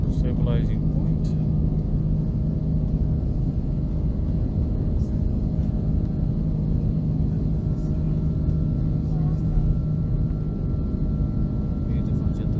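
Saudia Airbus A330-300 jet lifting off from Jeddah at night and climbing, a loud steady engine roar filling the cabin without letup, with voices talking over it.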